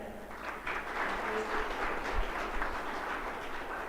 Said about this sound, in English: Students, let's have a big round of applause for our today's chief guest, Honorable Colonel Lalit Rai, sir.